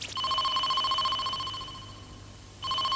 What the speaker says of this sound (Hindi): मुझे ऐसा लगता है कोई टीवी टेलीफोन पर हमें कॉल कर रहा है